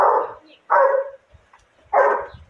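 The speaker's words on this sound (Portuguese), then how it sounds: "olha esse cachorro" Three loud, close barks from a dog, spaced roughly evenly with short silent gaps between them and faint low rustling in the background.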